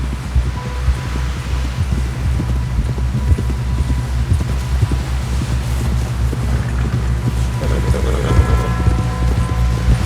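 Horse hooves clip-clop steadily and close in Red Dead Redemption 2, a brisk, even rhythm running throughout beneath a low droning game soundscape.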